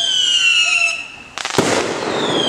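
Late-night Fourth of July fireworks: a high tonal whine gives way to a sudden loud, crackling burst that keeps hissing and sizzling nearby.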